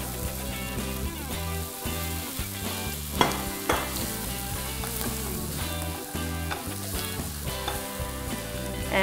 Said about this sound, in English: Now I'm going to throw in the prawns.